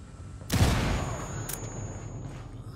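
In the Ghost Recon Wildlands video game, a single loud, near gunshot or explosive blast booms and then rolls away in a long fading rumble, with a brief sharp crack following a second later.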